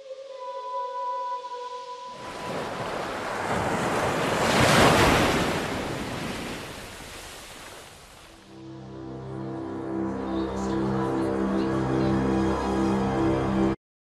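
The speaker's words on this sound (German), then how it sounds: "Der Vice City Sound hört sich so an." A short musical jingle from Grand Theft Auto: Vice City gives way to a surging whoosh of waves and wind, then steady tonal game music returns.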